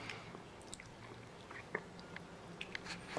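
A dog chewing on a treat indoors, soft wet gnawing with a few sharper bites and crunches, close and quiet, no talking.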